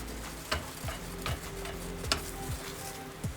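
A utensil scrapes and taps against a pot as eggs are stirred for pork fried rice, making a regular clinking rhythm about every second over a low, continuous sizzle.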